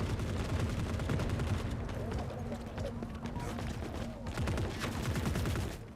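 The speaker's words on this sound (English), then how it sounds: "The echo of distant gunfire" Distant gunfire crackles across a battlefield in the video game The Forever Winter, a dense, steady rattle of shots and bursts with low rumbling booms underneath, continuing without pause for the whole stretch.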